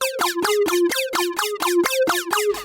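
A synth arpeggiator melody in Bitwig 3.3 plays with every other step skipped, giving a steady run of about eleven evenly spaced plucky notes, bright and close, with no voices.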